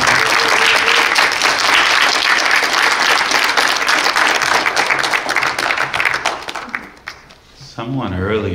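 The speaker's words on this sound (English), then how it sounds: "Come on, let's clap our hands for our sister one more time." A church congregation at a memorial service claps their hands together in honor of a departed sister. Loud, sustained applause fades near the end, where a voice and some tonal sound break through.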